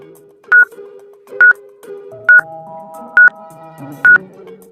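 Telephone dialing tones beep out five separate keypresses in an even rhythm, clear and loud over a quiet background.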